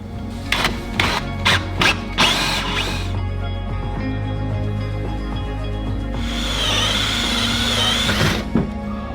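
A power drill bores through 2x6 wooden studs during a shipping container home build, starting with several short loud bursts, then grinding steadily at close range before a final high whirring push, with no talking.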